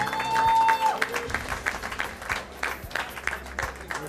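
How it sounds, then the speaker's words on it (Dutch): Audience applause for the winner of the World Poker Tour National 2015 in Valkenburg, steady clapping from a crowd that carries through the whole stretch after a brief tone at the start. "En een nog veel groter applaus voor onze winnaar van de World Poker Tour National 2015."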